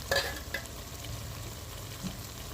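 Green chillies and finely chopped ginger fry in a pot of hot oil for potato and cauliflower curry, giving a steady close crackle and sizzle with a brief louder burst at the start.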